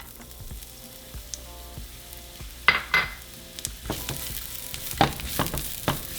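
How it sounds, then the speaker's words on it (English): A quarter of a small white onion hits hot oil in a frying pan, starting as quiet crackles and building into a denser sizzle punctuated by sharp pops and stirring clinks, close and without talk. "we're going to fry 1/4 of a small white onion"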